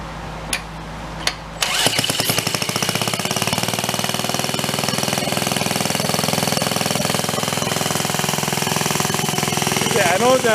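A small engine on a donated broken reel mower, revved up under throttle: after brief quiet clicks it bursts into a loud, steady rattling roar with a rapid pulsing beat that holds for about nine seconds.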